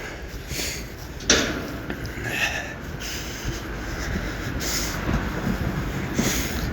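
Tram passing on a city street, a broad rumbling wash of rail noise with a few sharp clanks, moderately close, with faint voices in the background.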